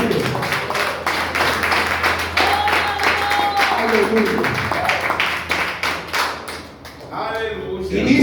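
A church congregation claps and applauds at a Spanish-language service, a dense run of close hand claps and thumps continuing for several seconds while voices call out over it.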